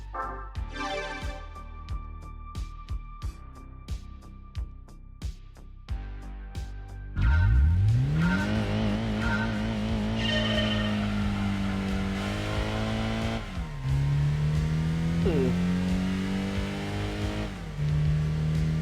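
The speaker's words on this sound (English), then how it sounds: "It's a little bit over rev on the first gear over there" Simulated race car engine in Gran Turismo 2 on PS1, loud and continuous, revving hard and holding near the limiter in first gear before upshifting, with pitch sweeps climbing and dropping across the run and no talking.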